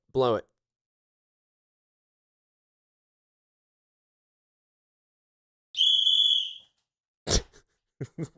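A hand whistle is blown once, a bright, steady tone lasting under a second, standing alone in silence after a short bit of talk and followed by more brief speech.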